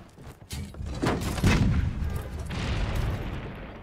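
A cannon fires in the video game Monster Hunter World, a booming shot with a rumbling tail followed by more distant blasts and explosive rumble throughout, loud and without speech.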